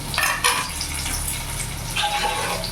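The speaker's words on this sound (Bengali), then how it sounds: "এই তেলের মধ্যে এখন আমি কেটে রাখা আলুগুলো ভেজে নেব।" Half-boiled cut potatoes fry in hot oil, giving a steady, rushing sizzle with scattered crackles and pops throughout, with no one talking.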